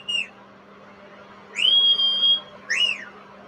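A clear two-tone whistled ringtone chirps three times, rising and falling slides over a low steady hum, with short pauses between calls.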